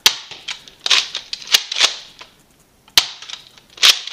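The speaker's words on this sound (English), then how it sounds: "But let's fire off some rounds." Nerf Modulus Recon Mk II blaster firing foam darts indoors, a series of sharp, snappy shots spaced irregularly, each with a short mechanical clack, close and fairly loud with a brief pause midway.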